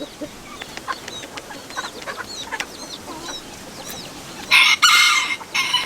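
Hens cluck in short, scattered calls nearby, then a rooster crows loudly near the end, standing out over the soft background.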